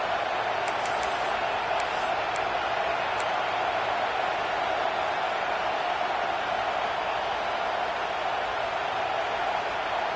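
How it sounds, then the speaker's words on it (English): A home football crowd roars at a college stadium in a Notre Dame vs USC game, a loud, steady wash of cheering noise that fills the whole stretch, with a commentator's voice under it. "how nice is it to have the home crowd going absolutely bananas?"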